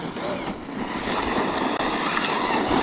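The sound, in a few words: Team Corally Sketer RC car driving on 5S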